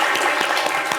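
Audience applause in a studio show setting, a brief loud burst of clapping with distinct individual claps, close and steady.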